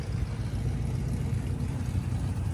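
A hot rod car rolls past at a car cruise event, a steady low engine rumble holding close and loud throughout without any clear rise or fall.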